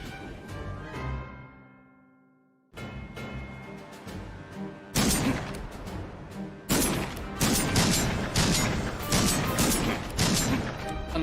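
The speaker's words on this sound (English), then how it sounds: "They hurry to follow the sounds of cannons and gunfire to find a city at war." Cannon blasts and rapid gunfire from a city at war in the video game Pumpkin Jack, erupting in loud repeated bursts after a quieter musical opening, building into a dense, continuous barrage.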